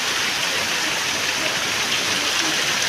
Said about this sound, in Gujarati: અમારે ગામડાની અંદર વરસાદ થાય ને એટલે ધોધમાર જ થાય